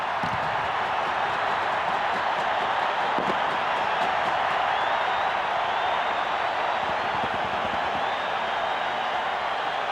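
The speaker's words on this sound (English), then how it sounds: "This crowd has gone absolutely mad." Large rugby league stadium crowd roars after a try in a Maroons interstate match, a dense, sustained wall of cheering and noise with scattered clapping throughout.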